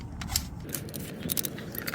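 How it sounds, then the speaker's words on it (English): Quiet ratcheting clicks and gritty metal scraping as the canister is twisted off a grease gun head, close and faint, in short irregular bursts. "next we're going to go ahead and unscrew the canister here"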